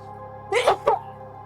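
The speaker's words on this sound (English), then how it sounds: "I need to sneeze." A short sneeze bursts out in two quick sharp puffs, close and clear against a quiet background, in a dialogue-driven game scene.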